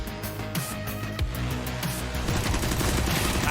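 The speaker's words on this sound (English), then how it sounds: "And Shoxy pushed through with the UMP." Rapid automatic UMP submachine-gun fire in a professional Counter-Strike match at ESL Pro League, with bursts of shots and cracks running continuously and loudly throughout amid other game sounds.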